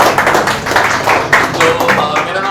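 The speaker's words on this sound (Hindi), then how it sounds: "एक बार तालियां अपने तरफ से।" An audience at a stand-up comedy show claps in loud, close, uneven bursts, with separate hand claps standing out in a small crowd.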